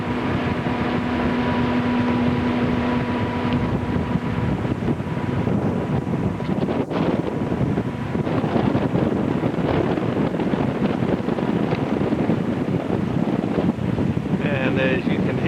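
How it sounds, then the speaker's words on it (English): Strong wind roars steadily across the microphone aboard a moving boat approaching Kusapsi, with a constant low rumble and buffeting that never lets up. "as you can hear, it's quite windy"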